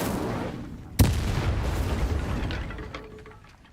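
Incendio fire spell cast in Hogwarts Legacy: a single sharp burst near the one-second mark, followed by a sustained roaring, crackling whoosh that slowly fades over the next few seconds.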